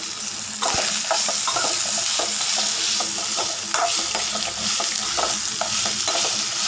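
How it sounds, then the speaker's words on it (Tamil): Sesame seeds, lentils and coconut pieces sauté in a pan over low heat, a steady sizzle with repeated scraping stirs of a spoon, close and loud, no voices. "சிம்மில் வச்சு வதக்குங்க. வதங்கி வருதுங்க."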